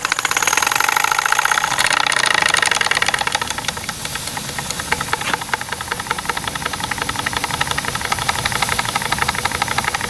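A small steam engine runs steadily, a rapid rhythmic chuffing and knocking over a constant hiss of steam, close and fairly loud, with no talking.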